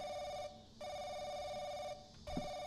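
Telephone in the horror game The Crooked Man rings in a loud electronic trill, two bursts split by a short gap, with a brief low thump near the end and no speech.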